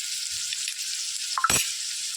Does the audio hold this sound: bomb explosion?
no